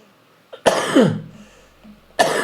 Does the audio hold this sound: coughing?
yes